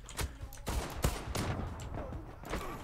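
Gunfire in the online shooter Zula, several loud sharp shots in an irregular burst pattern, with a busy game background between them.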